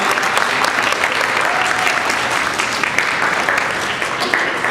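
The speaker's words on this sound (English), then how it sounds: "give yourself a big round of applause" A crowd claps steadily and energetically, dense applause holding at an even level throughout.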